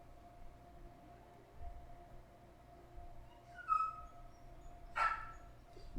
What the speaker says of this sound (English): Bark, bark, I hear you.